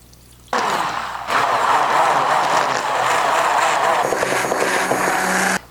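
A handheld blender whirs loudly and steadily through the water and oil phases of a homemade hand cream, starting abruptly, rising in pitch after a moment, then cutting off at the end.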